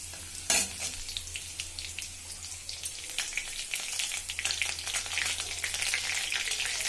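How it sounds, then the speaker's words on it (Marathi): Chopped green chillies frying in a pan for a quick potato curry, a close crackling sizzle with stirring scrapes, starting with a sharp clack and growing busier and more spattery toward the end. "कट केलेली मिरची, बघा छान फ्राय करायचे आहे आपल्याला।"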